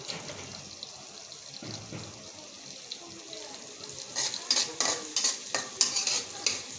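Onions frying in a pan with a low sizzle, then a run of brisk, repeated spatula scrapes and clatters as they are stirred, growing louder and faster over the last few seconds; close, no voices.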